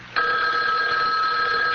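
A telephone bell in a vintage radio drama starts abruptly and rings continuously, a loud bright metallic trill held steadily without pause.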